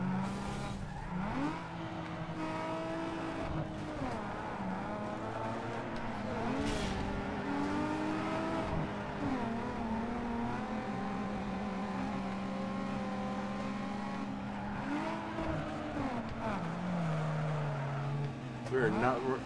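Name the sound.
cars drifting in Need for Speed Underground 2 video game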